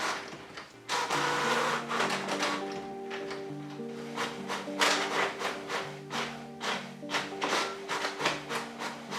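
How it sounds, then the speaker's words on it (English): A Canon MAXIFY GX series inkjet printer copies originals with two-sided auto duplex, giving a busy run of rhythmic mechanical whirring, feeding rattles and pulsing motor tones, heard close and fairly quiet with no voices. "originals and set 3 copies to print with auto duplex"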